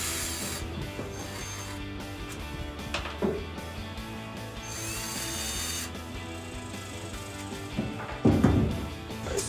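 A power drill or driver backs screws out of a 1999-2006 Chevrolet Silverado 1500 tail light housing, a steady whirring run with short ratcheting bursts and a louder clatter near the end, close by with no talk.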